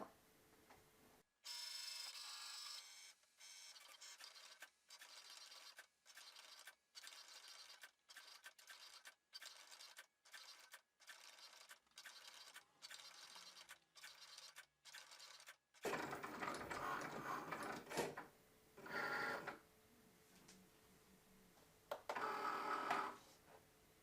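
A Cricut cutting machine fitted with a fine point blade works through a mat in a run of rhythmic motorized whirs separated by brief pauses, then shifts into louder, longer carriage sweeps, close and without talk.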